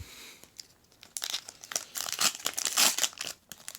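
Foil wrapper of a Pokemon Rebel Clash card pack being torn and crinkled open by hand, a close run of crisp crackling tears that builds over a few seconds, with no talking.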